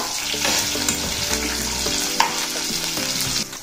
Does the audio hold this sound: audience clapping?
no